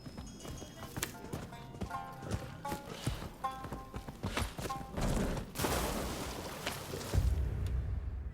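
Horse hooves clip-clop at a brisk, steady ride through the Rise of the Ronin video game, the rhythmic clatter running throughout with a denser rush of noise near the end.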